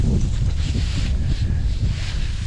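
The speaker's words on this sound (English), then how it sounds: "Oh, it's so windy." Steady wind buffeting a microphone while biking outdoors, a loud continuous low rumble and roar with no pauses.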